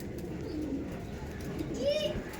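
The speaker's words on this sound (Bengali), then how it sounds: "এটা ছিল মাদি পায়রা এটাকে লাল চিনা বলা হয়" A female Lal China pigeon coos in short, low, gliding notes close by, a couple of brief phrases over mild background noise with a hint of a voice nearby.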